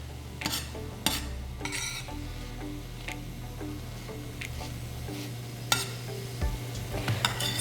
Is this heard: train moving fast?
no